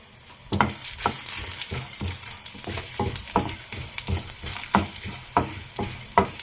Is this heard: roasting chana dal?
yes